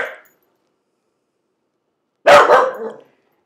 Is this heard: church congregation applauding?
no